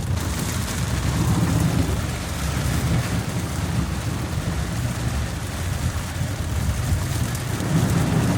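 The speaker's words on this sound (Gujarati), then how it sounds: "અને ભાઈ હજી વરસાદ તો બંધ રહેવાનું નામ નથી લેતો" Heavy rain pours down over flooded streets in Surat as a steady, loud, broad hiss with a low rumbling undertone that could be thunder, continuous throughout with no talking.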